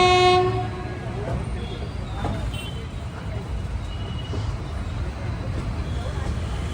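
Passenger train on the Warangal–Secunderabad line rolling slowly past, a steady low rumble with rhythmic wheel clatter after a brief horn at the start.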